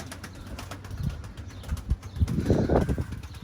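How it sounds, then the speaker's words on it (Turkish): Pigeons' wings flap in uneven bursts as the birds take off and circle in the rain, with soft rain-like patter and background noise throughout. "Bakın yağmurlu havada kuş uçuruyorum."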